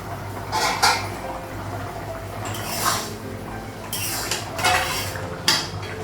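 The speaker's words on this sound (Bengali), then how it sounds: "ঢাকনাটা উঠানো।" A metal lid comes off a pot of egg and potato curry in a home kitchen, with a few clanks and scrapes of metal cookware over a low background hum, no talk.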